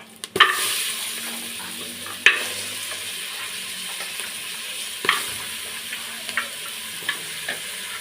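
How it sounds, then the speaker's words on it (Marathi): Cleaned goat trotters drop into a hot pan of ghee over a high gas flame. Sharp knocks and clatters come as they are added and stirred, over a low, steady sizzle. "आपण हा स्वच्छ धुतलेले बोकडाचे पाय हे बघा हे टाकून देऊया."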